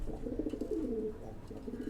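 Domestic pigeons kept at home for fostering coo in a close, continuous series of low burbling phrases, with one longer rolling call in the middle.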